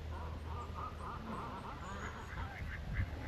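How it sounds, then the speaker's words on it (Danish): Ducks on a lake in Hillerød quack faintly and intermittently from a distance over steady outdoor background noise. "Masser af ænder på søen i dag."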